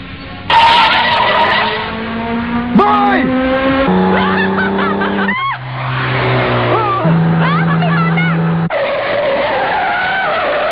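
Car tires skid on a road in a dubbed animated series as a car comes at a child, making a loud, drawn-out screech with shifting tones while a voice cries out over it.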